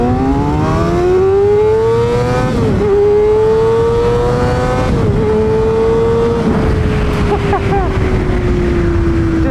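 Kawasaki ZX6R 600 cc sport motorcycle fitted with a new exhaust and a flashed ECU, revving loud and close in several rising pulls. The pitch climbs, dips between pulls and then drops away toward the end.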